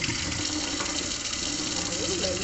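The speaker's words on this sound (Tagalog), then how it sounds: "Hugasan ko ulit ng last hugas." Tap water runs steadily into a sink while pork pieces are washed in a kitchen, a close continuous gushing stream with light splashing throughout.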